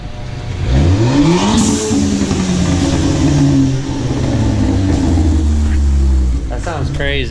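A Ford Fiesta 1.6 with its muffler cut off revs hard up close in a shop, a raw, loud engine roar sweeping up and down in pitch and holding high, with voices around it.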